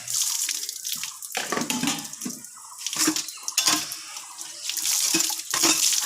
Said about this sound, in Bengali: দেখো একটু চাপ দিতে না দিতে জল বেরোচ্ছে কত সুন্দর।